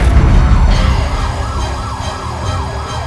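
A loud ambulance siren wails in repeating rising-and-falling sweeps over the rumble of road traffic, close by and continuous.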